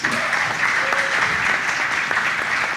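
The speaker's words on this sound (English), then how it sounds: "One more round of applause for the professionals on stage." A conference audience applauds, dense steady clapping from a large crowd filling the room throughout at a strong, even level.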